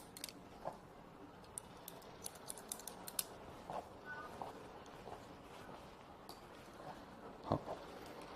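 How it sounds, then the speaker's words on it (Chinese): Flat scissors trimming hair for a bob cut, giving sparse, crisp snips scattered at an uneven pace, quiet and close against a soft, hushed background. "我就用平剪给大家去修剪"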